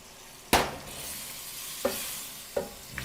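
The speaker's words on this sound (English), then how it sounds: "And then we put our peppers back in." Shrimp and peppers sizzle in a hot stir-fry pan, with a loud stir or toss near the start and two or three smaller stirring scrapes later over a steady frying hiss.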